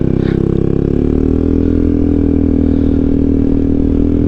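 A Yamaha XMAX scooter engine hums steadily and loudly throughout, a continuous riding drone with road noise and no voices.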